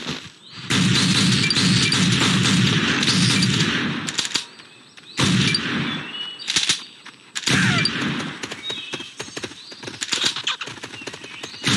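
Gunfire in the hunting video game Top Shot Arcade, on the Alberta Evergreen Labyrinth map, comes as loud, dense, booming bursts with low rumble, broken into three stretches by short pauses.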